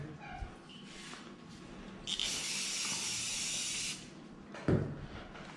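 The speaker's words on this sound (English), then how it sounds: "just spray this blade." A steady spray onto a dog-grooming clipper blade hisses for about two seconds close by, with quieter rustling and small knocks before and after.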